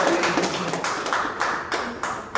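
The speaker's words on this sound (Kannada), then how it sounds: "ಒಂದ್ಸಲ ಜೋರಾಗಿ ಚಪ್ಪಾಳೆ" Audience clapping loudly in a room, fast continuous applause from a group of people with irregular sharp claps rising above the wash throughout.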